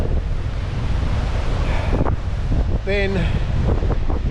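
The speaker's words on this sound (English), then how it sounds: "You see the waves there breaking on that back of that rock shelf." Ocean surf breaks against a coastal rock shelf at Crystal Pools near Foster, New South Wales, a constant loud wash under heavy wind buffeting the microphone, with a brief spoken word and a short tonal cry partway through.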